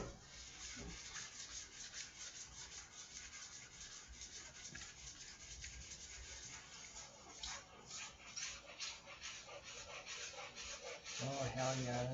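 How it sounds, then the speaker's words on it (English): Guitar varnish being sanded with 3000-grit sandpaper, a soft close rubbing rasp in steady back-and-forth strokes, quiet and continuous, with a slightly louder scuffing at the very end. "Now, all I got to do now is I'm going to the next sandpaper"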